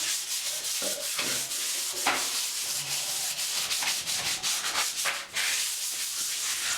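Sandpaper rubbed hard across a porcelain bathtub surface, making a continuous rough, gritty scratching with short repeated strokes. Close and steady, with nobody talking.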